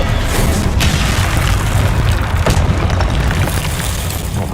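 A booming Confringo spell explosion in the video game Hogwarts Legacy, a loud, dense blast with sharp cracks layered over heavy low rumble that stays sustained and forceful throughout.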